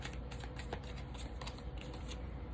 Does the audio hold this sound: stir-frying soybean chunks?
no